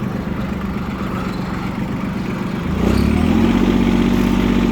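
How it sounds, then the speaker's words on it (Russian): A Mitsubishi MT241 tractor engine runs close by as the tractor turns almost in place: a steady, rough diesel drone that rises in loudness and deepens in tone partway through. "Трактор фактически на месте, пытается развернуться."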